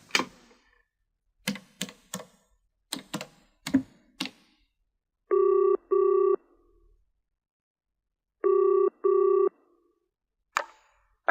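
A rotary telephone is dialed, a run of clicking and ratcheting sounds, followed by two pairs of steady electronic ring tones with a pause between them, close and clear, with no voices.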